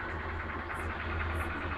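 A 2010 Honda Fan 125cc motorcycle engine runs with an abnormal mechanical noise, a steady low idling drone with faint rhythmic ticking and a couple of brief higher hisses, heard at moderate distance.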